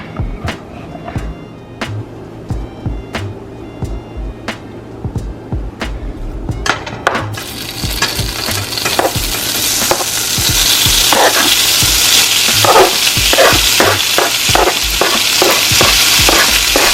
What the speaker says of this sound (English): Now I will fry until crispy.